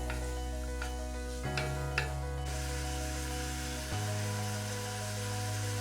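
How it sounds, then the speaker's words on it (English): Chopped onions tossed and stirred in hot bacon fat for a bourbon cheese soup, a steady close sizzle with a few scraping clacks from stirring, no talking. "make sure the onion gets really coated in that bacon fat. And I'm gonna let these soften."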